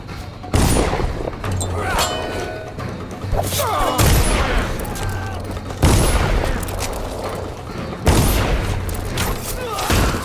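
Gunfire in the video game Dishonored: heavy booming shots at intervals of about two seconds over a rumbling battle background, with game characters shouting in between.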